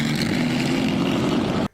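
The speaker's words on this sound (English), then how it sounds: "That is the sound of the inline straight 8s joined together to create a V16." A V16 built from two inline straight-eights running at a steady, continuous buzzing drone, loud and close, cutting off abruptly at the end.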